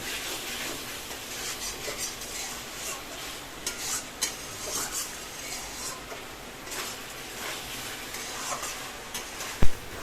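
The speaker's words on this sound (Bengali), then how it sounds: "আমাদের এখানে কুমড়োটা একদম পুরো মাংসের মতো কষানো হচ্ছে" Raw pumpkin sautéed with homemade spice mix in a pan for a rohu fish curry, with steady stirring and scraping over a soft background sizzle and a sharp utensil clink near the end.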